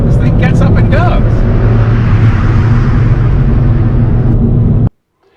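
A JDM collector car accelerates hard, its engine giving a loud, sustained low rumble that holds steady, then cuts off abruptly near the end. A voice is heard briefly over the engine at the start.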